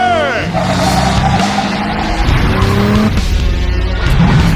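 Tuned high-powered street cars in Cyberpunk 2077's Night City, with loud engine revving and repeated tire squeals and skids, while a person talks over the driving sounds.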